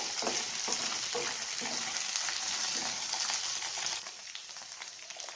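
Okra and brinjal sautéing in a pan, a dense close sizzle with light stirring clatter that steadies and softens slightly toward the end, with no talk.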